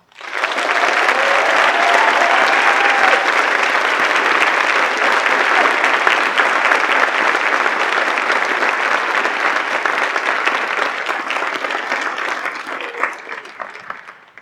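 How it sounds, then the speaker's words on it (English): An audience at a school staff recognition ceremony claps loudly and steadily for retiring staff, a dense, sustained round of applause that tapers off near the end. "please join me in a round of applause"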